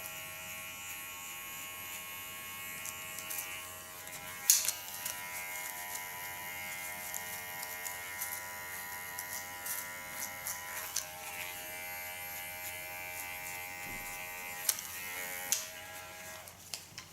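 A small Kiona hair clipper buzzes steadily while trimming a contour line on a haircut, faint and constant, with a few soft clicks and bumps of handling and no voices.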